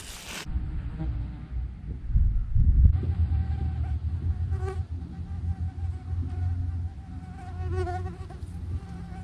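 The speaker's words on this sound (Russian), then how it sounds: "комары замучили, прям вот жестко начали кусать" Steady high-pitched whine of mosquitoes buzzing close around, continuous over a low outdoor rumble, no talking.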